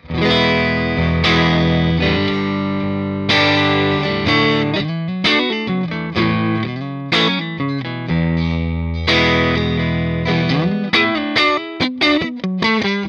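Electric guitar on the neck pickup through a Fender Blues Jr amp fitted with a WGS Alnico speaker: a warm, rounder tone playing sustained chords that break into quicker picked notes, close and steady, with no voices.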